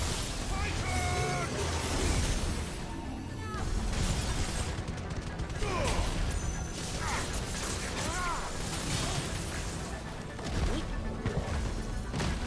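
Crackling, booming Judgment Bolt lightning spell bursts from Final Fantasy XVI layered in a dense, loud game mix of crashes and impacts running the whole time, with a voice talking over it.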